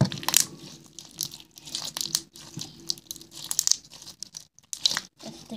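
Close, crackly crunching and squishing as crunchy slime is pressed and kneaded, with irregular bursts of crinkly texture.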